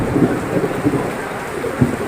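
Rain falling steadily with rolls of thunder, a dense continuous wash of rainfall broken by a few low rumbling swells, loud and close, with no voices.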